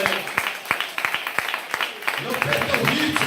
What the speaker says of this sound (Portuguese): bate uma salva de palmas para o Senhor Jesus